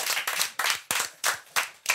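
A studio audience claps at a French political talk show, a few people slapping hands in distinct rhythmic bursts, roughly one clap every third of a second, close and fairly loud with no talk over it.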